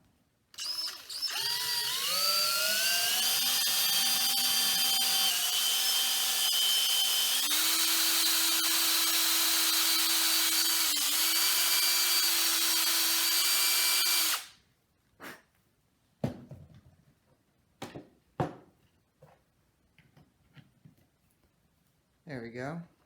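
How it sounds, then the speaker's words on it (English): Power drill boring a hole in wood for a homemade Halloween mace, a loud close whine with rising and shifting pitch held for about fourteen seconds, then stopping; afterward a few scattered knocks and bumps. "So I'm going to drill the hole right now."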